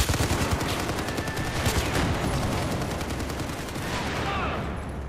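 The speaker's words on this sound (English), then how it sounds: "Dude, I love this goddamn light machine gun." Sustained light machine gun fire from a PKP in a Battlefield 4 Rush match, a dense continuous burst of loud rapid shots that rolls on for several seconds before easing slightly at the end.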